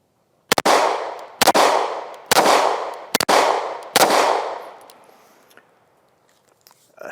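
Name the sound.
AF-1 Strike One 9mm pistol being fired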